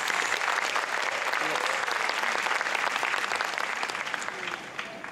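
Dense, sustained applause from a large audience at an Inner Wheel and Rotary clubs gathering in India, loud and steady throughout, tapering slightly near the end.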